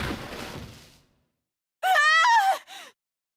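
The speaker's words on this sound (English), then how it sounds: "Another scream filled the room." A woman's high, strained scream rings out in the video game 999 after a fading rush of noise and a short silence, followed by a brief second cry.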